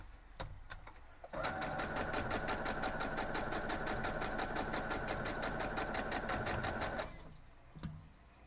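A sewing machine stitching star quilt block pieces runs in one fast, rhythmic burst of about six seconds, framed by a few soft handling clicks before and after, with no talking.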